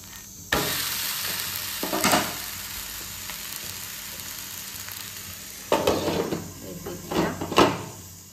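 An uttapam fries in a pan with a continuous hissing sizzle, interrupted by two bursts of louder scraping and clattering as it is worked and turned.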